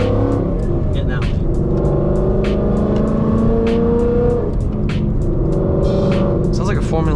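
Rebuilt Gen 2 Mustang with a Coyote engine revving loudly from inside the car, rising and falling engine tones with sharp pops, heard under people talking.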